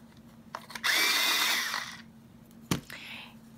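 A colored pencil gets sharpened, a brief whirring grind lasting about a second that tails off, followed by a quick second short burst.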